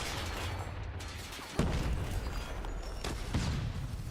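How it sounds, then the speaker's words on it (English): Loud, continuous Call of Duty: Mobile combat with a couple of booming explosions standing out over rapid gunfire and rumbling noise. "That is a lot of explosions,"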